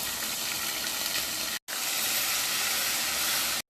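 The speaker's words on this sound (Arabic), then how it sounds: "ونسمع الطشه." Garlic frying in hot oil for koshari sauce gives off a loud, dense, continuous sizzle with no voices, broken by two brief silent gaps.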